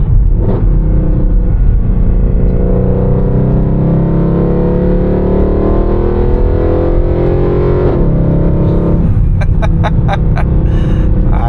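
A loud, deep 2012 Mercedes-Benz C63 AMG (W204) 6.2L V8 engine rumbles and revs continuously for several seconds, close up, with a brief dip and a rising rev near the end.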